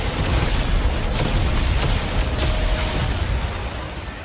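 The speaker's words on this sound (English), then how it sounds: "Explosions everywhere!" Explosions in the video game Dead Space 3 roll out as a dense, rumbling wall of blasts and booms, loud and continuous, fading slightly near the end.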